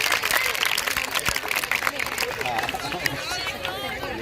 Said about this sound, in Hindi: उद्घोषक के लिए जोरदार ताली बजाइए बच्चों।